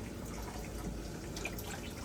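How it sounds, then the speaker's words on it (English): An aquarium filter lifted out of the tank drips water into a plastic bin, a steady patter of drips over a wash of constant background noise. "Let it drip a little."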